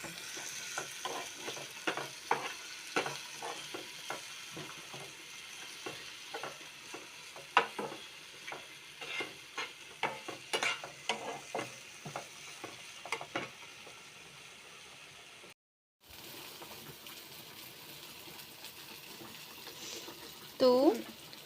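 Onion and tomato fry in a pan for egg masala, a steady sizzle broken by repeated stirring scrapes and clanks. A short silent gap comes near the end, followed by quieter sizzling.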